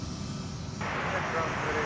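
A fixed-wing airliner roars at MSP airport, a broad steady engine rumble that grows louder partway through, with people talking nearby.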